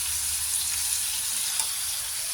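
Oil sizzles steadily and close in a pan as liver is sautéed for pancit, a continuous even hiss with no voices.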